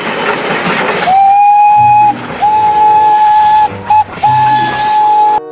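A toy Thomas train sounds a shrill, steady whistle tone, cut into a few short bursts with brief gaps, close and loud over faint clattering.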